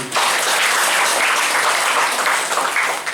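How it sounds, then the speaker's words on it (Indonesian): A church congregation applauds loudly and continuously, a thick wash of many hands clapping that holds steady before easing slightly at the end. "Tepuk tangan bagi Allah."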